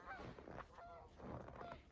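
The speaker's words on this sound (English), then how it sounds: "there's a big flock of geese overhead" Geese honk in a loose chorus somewhere overhead, repeated nasal calls rising and falling, faint and distant with no talking.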